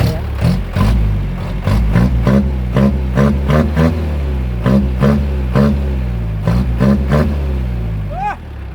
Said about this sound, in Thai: เครื่องยนต์ปกตินะครับ